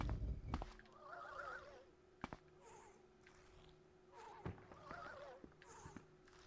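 A horse whinnies a few times in a quiet scene in the video game The Elder Scrolls III: Morrowind, short wavering neighs spaced apart with faint clicks and thuds between them.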